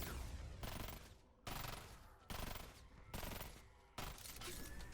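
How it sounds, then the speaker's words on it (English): Dirge weapon in Fortnite Save the World firing 9-round bursts, four or five loud rapid volleys separated by short pauses, each burst trailing off before the next. "it does feel weird shooting this since it is 9-round bursts"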